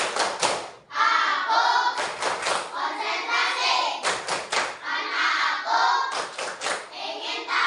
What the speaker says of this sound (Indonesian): Coba tepuk konsentrasi.